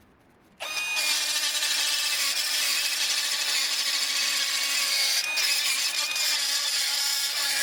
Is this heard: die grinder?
yes